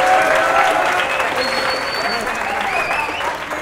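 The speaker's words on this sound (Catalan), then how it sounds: "Un aplaudiment per ells, sisplau." Studio audience applauds a school team from Ripollet on a Catalan TV quiz show, a steady dense clapping that holds at an even level before tapering slightly at the end.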